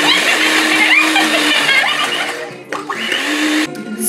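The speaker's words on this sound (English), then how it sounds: "So I decided to whisk it in the end because look how amazing it looks whisked." Pumpkin cake batter with butter and orange zest is whisked in a continuous, close whirring buzz that briefly cuts out twice near the end.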